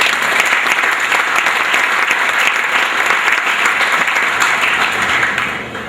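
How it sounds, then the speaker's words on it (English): Audience applause fills a sports banquet hall, dense and steady clapping from a large crowd that holds throughout before starting to fade at the very end. "And a little round of applause for them."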